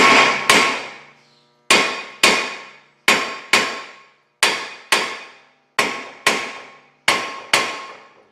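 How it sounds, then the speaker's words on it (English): A heavy hammer strikes a brake rotor repeatedly to knock it loose from the hub on a 2012 Cadillac CTS, giving sharp metallic bangs in quick pairs with short ringing decays and pauses between each pair. "And we'll have to knock that loose, apparently. A couple of wraps with a BFH ought to do it."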